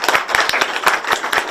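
A congregation claps for a minister, a brief burst of brisk, closely spaced hand claps at steady volume with no speech over it.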